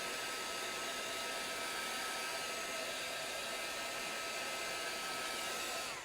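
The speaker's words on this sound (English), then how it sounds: "I use a heating tool, but you can totally use a blow dryer" Heat tool or blow dryer blowing air over fresh paint on a reusable silk screen fall sign, a steady loud whooshing hum held continuously for about six seconds, no talking.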